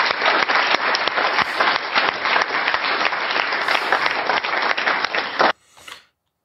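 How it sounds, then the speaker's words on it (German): Loud, close clapping in a TV studio during a talk show, with sharp irregular handclaps mixed into a crowd of applause that continues for about five seconds and then cuts off abruptly. "Da klatscht jemand."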